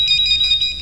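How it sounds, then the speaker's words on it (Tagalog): A telephone rings in a bright, steady electronic trill, close and loud, with no voices over it. "Nag-ring ang telepono."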